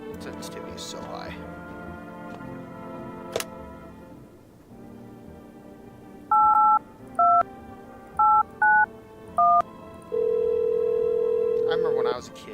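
Touch-tone dialing on an old telephone: a quick series of short, evenly loud DTMF beeps in uneven rhythm, then a steady held tone, close and clear over faint background voices and room noise.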